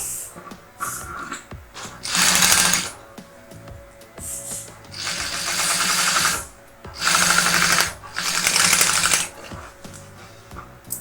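A sewing machine runs a 1 cm seam joining the front and bottom panels of a fabric lunch bag, in four loud bursts of whirring stitching separated by short pauses, with no talking.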